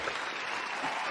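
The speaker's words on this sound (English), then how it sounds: "Let me give you some of this applause here real quick." Dense applause from a crowd, a continuous wash of clapping heard briefly and fairly quietly, with no talking.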